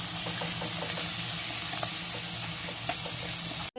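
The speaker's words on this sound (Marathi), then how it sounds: "मस्त असं खमंग असं खरपूस परतून घ्यायचं आहे" Vada pav filling with coriander sizzles steadily as it is sautéed crisp in a pan, a close, continuous frying hiss with small pops and no talking.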